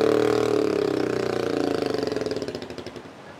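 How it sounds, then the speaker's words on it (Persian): A motorcycle engine in the mountains of Nuristan, Afghanistan, loud and close at first, then fading with a rapid, rough putter as it moves away, heard alone. "اینمی صدای موتورسیکل هم که به گوش شما رسید"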